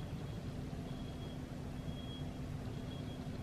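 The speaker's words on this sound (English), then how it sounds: "I think it was a truck." A truck passing outside makes a steady, fairly quiet low engine rumble with a faint thin high tone running through it, continuous for the whole stretch with no voices.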